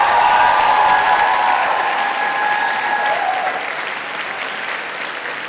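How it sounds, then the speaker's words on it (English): Graduates at a university commencement ceremony in Paris applaud, giving a steady, dense wash of clapping from a large crowd that eases slightly toward the end. "I invite the graduates to applaud their professors for all the assistance they provided."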